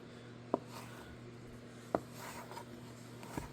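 Knife cutting around a decayed patch of a chanterelle mushroom, heard as two or three quiet, sharp slicing taps spaced over a second apart against a faint background hum.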